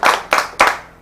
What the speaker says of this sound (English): we're going to clap for the man first